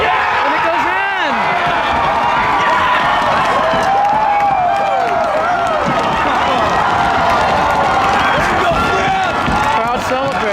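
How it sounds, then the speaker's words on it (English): A high-school soccer crowd roars and cheers after a goal headed in from a corner, with loud overlapping shouts, whistles and excited voices, sustained and dense throughout. "Crowd celebrates."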